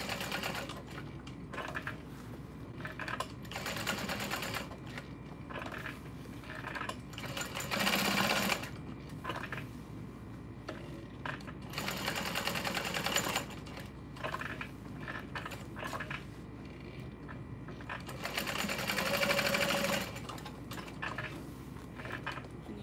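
A sewing machine stitching a messenger bag, back-stitching over hardware with a long stitch length, in bursts of rapid rhythmic whirring separated by short pauses and handling sounds, close and steady, with no talking.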